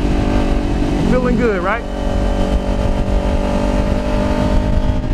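A street motorcycle engine hums steadily while cornering through a left turn at around 30 to 38 mph, with a brief rising-and-falling whine partway through, and a person talking over it.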